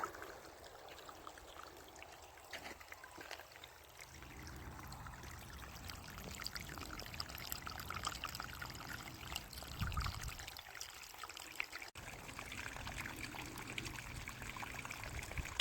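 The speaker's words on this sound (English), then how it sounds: "show you guys the water going down each row" Water from a garden hose trickles and flows down garden rows, a soft, fairly faint steady trickling wash heard alone with small variations.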